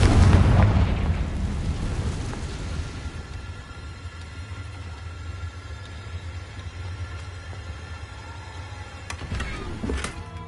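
Confringo explosive fire spell in Hogwarts Legacy on PS5 bursts with one loud boom at the start, then settles into a long low rumble with a few faint clicks near the end.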